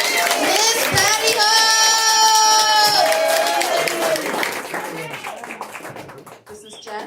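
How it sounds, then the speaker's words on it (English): An audience at a comedy club applauds and cheers to welcome the next performer. The clapping runs throughout, with a few whoops, and a sustained vocal tone rises over it before fading into scattered claps. "Big round of applause. Let's keep it going."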